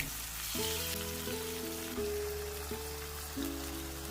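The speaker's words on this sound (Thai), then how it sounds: "ผัดไข่กับเนื้อสัตว์ให้เข้ากัน" Eggs and meat stir-fried together in a pan for soy-sauce fried instant noodles give a steady, moderate sizzle, with tonal background music playing over it throughout.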